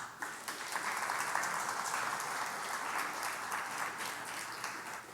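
Steady applause from a church congregation fills the space for about five seconds, a dense wash of many hands clapping at moderate loudness with no voices over it.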